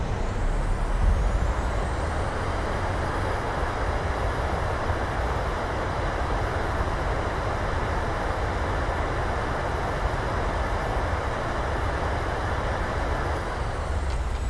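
Reverse thrust roaring on a PMDG 737-800 landing in Microsoft Flight Simulator, a loud, steady, broad rumble that holds unbroken and close for the whole stretch with no voices.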